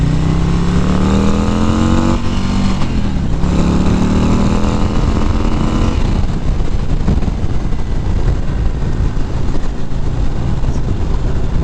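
A 2019 Harley-Davidson CVO Road Glide rides at speed with a loud, steady engine drone and a rising then falling pitch as it accelerates and eases off, swamped by continuous heavy wind rush.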